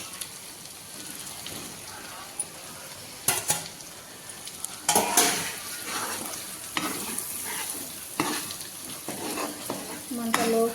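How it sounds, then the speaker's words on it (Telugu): Chicken pieces for pickle frying in hot oil in a pan, a steady sizzle broken by loud clattering stirs and scrapes, close and continuous with no talk. "ఇప్పుడు ఒక రెండు మూడు నిమిషాలు దీంట్లో ఫ్రై చేసుకుంటాను"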